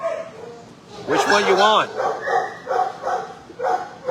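Puppies about 14 weeks old in a kennel, with sharp yips and short barks that come in quick bursts over a few seconds, while a person speaks briefly nearby.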